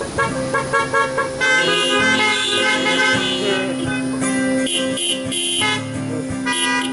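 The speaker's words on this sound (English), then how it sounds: "Then you can honk again." Car horns honk repeatedly and fairly loudly at a Shabbat gathering, short toots and longer blasts overlapping in a steady stream with no talking.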